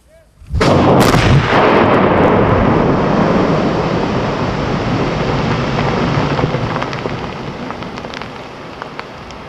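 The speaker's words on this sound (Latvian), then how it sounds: "Pirmais no prognozētajiem aptuveni 10 sprādzieniem nograndā ap 12. dienā." A heavy blast breaking river ice on the Daugava near Pļaviņas booms suddenly and loudly, then rolls into a long rumble as debris and water rain down, slowly fading over several seconds.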